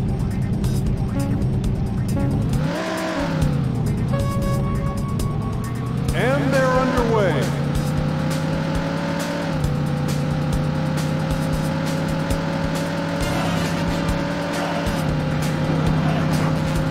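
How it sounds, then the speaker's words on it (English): Race car engines rev and whine in the 1996 SEGA Saturn game Daytona USA, with rising and falling pitch sweeps over a constant motor drone and an announcer speaking over them. "Gentlemen, start your engine."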